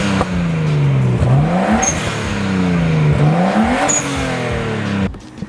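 A stock Nissan Skyline R32 engine revving in a moving car, heard from inside: a loud, close engine that climbs in pitch through two full pulls, with a shift between them, then a drop, with wind and road noise underneath.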